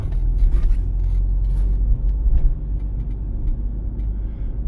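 A car on a driving exam route cruises along with a steady low road rumble and tyre noise heard from inside the cabin, with faint scrapes and ticks and no voices.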